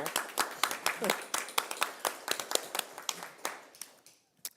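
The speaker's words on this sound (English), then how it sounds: "I just actually would like to give a round of applause to everyone that attended tonight" A short round of applause in a school district board meeting room, a small group clapping briskly with quick, overlapping hand claps that fade out after about four seconds.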